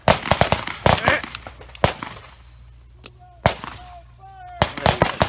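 Beretta 84 Cheetah pistol firing at a range, a quick string of sharp, loud cracks followed by a pause and more single shots, with faint metallic pings and reloading clatter between them.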